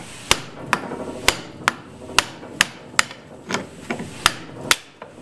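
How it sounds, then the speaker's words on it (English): A hammer strikes steadily to drive a wheel bearing out of a Yamaha Grizzly 660 ATV hub held in a vise, about a dozen sharp metallic blows at a regular pace, loud and close. "A couple more smacks and it'll be out."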